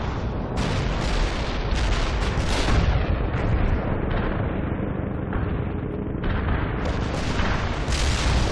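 Heavy artillery fire support pounds a position in the real-time strategy game World in Conflict, a continuous loud roar of booms and explosions with crackling bursts layered throughout.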